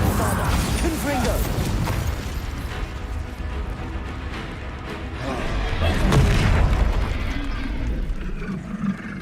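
A Confringo explosive spell goes off in Hogwarts Legacy, with heavy rumbling booms and crashing bursts blended into dense combat noise that stays loud across the whole stretch.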